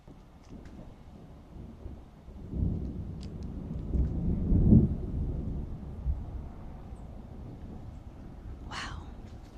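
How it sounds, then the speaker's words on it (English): Thunder after a lightning strike rolls and rumbles across a garden, swelling to a loud peak and then fading out slowly over light rain and wind. "That was a huge strike of lightning."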